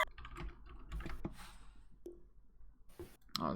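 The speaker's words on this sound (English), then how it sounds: "Oh god, that was some terrible typing." Rapid, uneven clacking of computer keyboard keys in bursts with short pauses, close and moderately loud, heard during a Dota game session.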